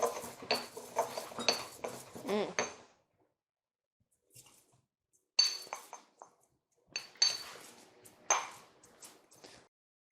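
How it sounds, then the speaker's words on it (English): Garlic and parsley are mashed into a shallot paste, giving a quick run of metallic clinks and scrapes of a utensil against a dish, then a pause and a few sparser sharp pings and clinks, close and fairly quiet. "got this nice garlic and parsley. I'm going to start mushing it"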